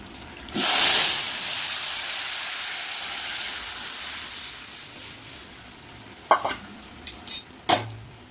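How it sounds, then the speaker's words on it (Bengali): Dry red chilli and radhuni hit hot oil to temper dal, a sudden loud hissing sizzle that settles into a steady crackle, followed by a few sharp utensil clinks near the end. "ডালে ফোড়ন দিয়ে দেবো এখন ফোড়নের জন্য দিয়ে দিয়েছি তেল শুকনো লঙ্কা আর হচ্ছে রাঁধুনি"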